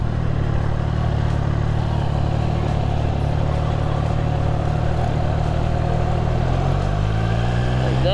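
A Triumph motorcycle engine hums steadily while being ridden, a constant low drone with wind rush, climbing in pitch near the end as the rider accelerates; a voice speaks over it.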